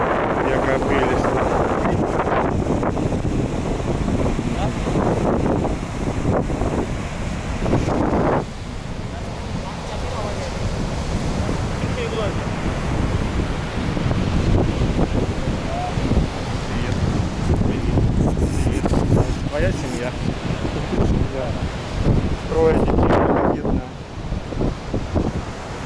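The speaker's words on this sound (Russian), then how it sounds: "Ветер дует." Strong wind blows across a seaside shore in Alanya, Turkey, after a storm, with waves washing in beneath a constant rumbling roar of wind buffeting the microphone; a person talks briefly over it.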